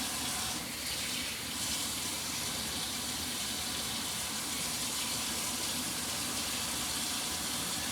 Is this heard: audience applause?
no